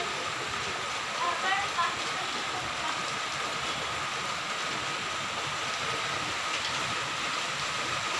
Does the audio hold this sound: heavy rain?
yes